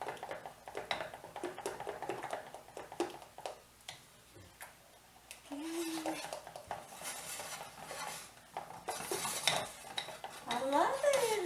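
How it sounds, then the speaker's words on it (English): A spoon stirs banana pudding in a pot on the stove, scraping and clinking against the metal in a busy, irregular rhythm close by. "Now I can stir it better."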